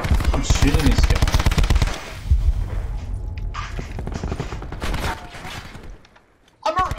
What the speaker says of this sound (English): I'm shooting this guy.